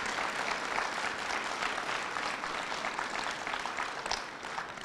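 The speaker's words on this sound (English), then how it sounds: "So please give your teachers a round of applause." A school audience applauds teachers at an elementary school opening ceremony, a steady wash of clapping from a crowd heard at moderate distance, holding evenly before easing slightly at the end.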